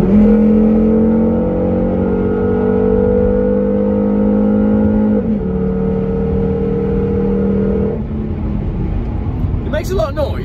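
A Volvo 850 engine drones loudly at high revs, dips as the gear changes, then eases off; a voice briefly appears near the end.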